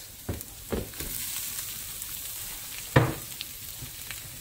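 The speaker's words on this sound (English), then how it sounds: "So all that pork fat is going to cook all this." Dried shrimps and mushrooms frying in pork fat, a continuous close sizzle broken by several sharp scrapes and knocks of a spatula stirring the pan.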